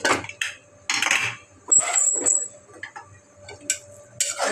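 A home pressure cooker used to cook carrot halwa is opened: metal clinks and scrapes of the lid and pot come in separate bursts, with short quiet gaps and a faint high hiss between them.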